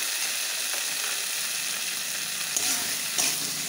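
Chili paste frying in hot oil makes a loud, steady sizzle with a few brief scrapes of stirring, and nothing else can be heard.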